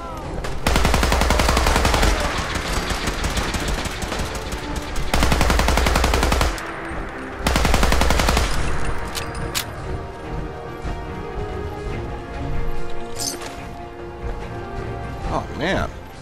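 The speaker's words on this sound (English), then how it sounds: "this explosive assault rifle just tears through things" An explosive assault rifle in Fallout 4 fires long, loud, sustained automatic bursts with crashing impacts, three heavy volleys in the first eight seconds, then quieter scattered shots and battle noise.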